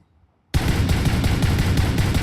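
Sustained automatic weapon fire from a PUBG Mobile match kicks in abruptly after a short silence, a dense, loud, rapid burst of shots continuing to the end with no talk over it.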